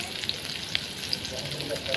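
Green chilli and onion with bay leaf and black pepper sizzling in a pan, a constant close frying hiss with a few light clicks, no voices.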